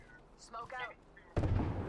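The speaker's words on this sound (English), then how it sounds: "Some punk is shooting at me." A loud burst of video game gunfire or an explosion breaks out suddenly near the end, following a short stretch of talking.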